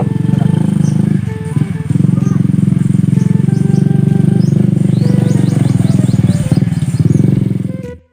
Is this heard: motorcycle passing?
yes